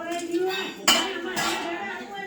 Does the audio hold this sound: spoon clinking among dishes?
yes